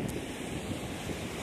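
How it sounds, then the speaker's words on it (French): Sea waves crash against rocks on the Brittany coast in a steady roaring wash while strong wind buffets the microphone, continuous and fairly close, with no voices. "Grosso modo, les vagues qui arrivent sur les pierres."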